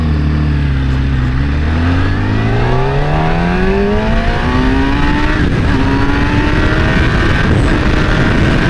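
A Triumph Speed 400 motorcycle is ridden and accelerates, its engine note climbing steadily through the gears. It is loud and close, with steady wind rush underneath and no talk.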